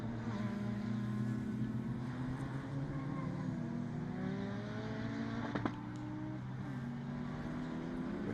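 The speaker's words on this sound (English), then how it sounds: "there's one of the little Citroen Saxos that's heading through the hairpin" Racing cars, including a little Citroen Saxo and a BMW E46 Compact, roar through the Snetterton hairpin in a BRSCC race, a continuous layered engine drone with shifting pitches as several cars pass.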